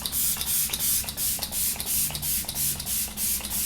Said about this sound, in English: I'm actually going to spritz my face with the Morphe Luminous Setting Spray